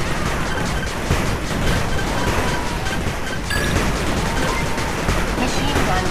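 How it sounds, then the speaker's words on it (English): Rapid gunfire and crashing impacts from an attack on a machine gun turret in the strategy game 8-Bit Armies, a dense, continuous barrage with brief voice cues over it. "Machine gun turret under attack."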